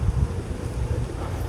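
Strong wind buffets the microphone in a continuous low rumble, steady and close, with no voices.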